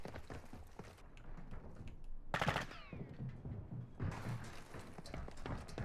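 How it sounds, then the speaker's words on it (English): Rapid weapon gunfire from the Call of Duty DMZ video game sounds in quick repeated bursts, fairly faint and steady, mixed with in-game clatter and footsteps. "Can you try to shoot the weapon?"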